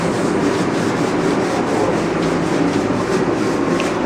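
Steady, close abrasive rubbing of someone scrubbing out a restaurant stove with a key, a continuous gritty scraping texture that holds even for the whole stretch with no talking.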